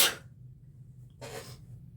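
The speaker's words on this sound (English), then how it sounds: "I'm gonna sneeze." A single sharp sneeze bursts out at the start, followed by a quieter second sneeze-like burst about a second later, close and indoors.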